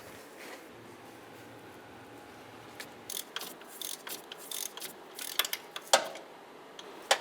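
A hand ratchet clicks in quick bursts while tightening a belt tensioner bolt on a Mazda CX-9 engine, starting after a quiet pause and growing sharper toward the end, close up with no talking.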